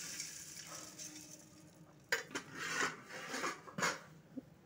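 Puffed rice tossed with fried garlic being stirred in a hot pan, a soft continuous sizzle under scattered scraping and clinking strokes of a utensil against the pan, close and fairly quiet.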